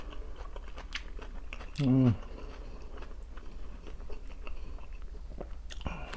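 Crispy pan-fried potatoes being chewed close to the microphone, with repeated crunchy bites over a low steady hum and a brief voiced sound in between.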